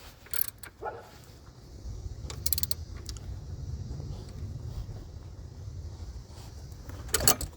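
A wrench turns a bolt on the belt tensioner of a 2000-2004 Subaru Outback, giving steady ratcheting, creaking mechanical clicks under a low hum, with sharp metallic knocks near the start and end.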